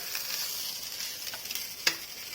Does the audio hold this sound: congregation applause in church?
no